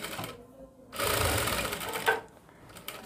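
A Jack F4 sewing machine stitches and winds its bobbin, giving a steady mechanical whir in a short run that starts and stops, with quieter machine noise on either side.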